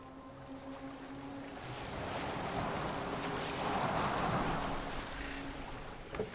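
Boat gliding across open water in Assassin's Creed Valhalla, a steady broadband wash of waves and wind with a low hum, swelling toward the middle and easing off, with no talking.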